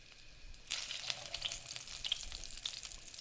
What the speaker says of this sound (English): and you should hear a little sizzle.